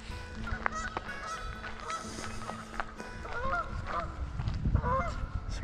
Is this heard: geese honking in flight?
yes